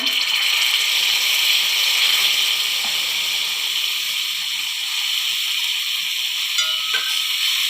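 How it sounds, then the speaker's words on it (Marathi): Pav bhaji heats in ghee on a hot griddle, giving a loud, even, hissing sizzle that holds steady throughout, with a faint clink or two near the end and no speech. "तव्यावर थोडं तूप गरम करून घेऊया. थोडी पावभाजी घालूया."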